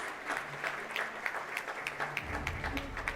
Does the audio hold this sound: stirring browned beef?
no